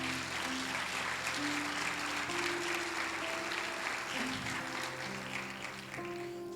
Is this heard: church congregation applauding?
yes